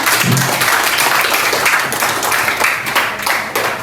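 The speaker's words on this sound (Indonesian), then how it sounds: "Sekarang tepuk tangan untuk kita semua." Applause from a classroom of students at an Islamic junior secondary school (MTsN), dense and steady clapping filling the whole stretch at close range, with no one speaking over it.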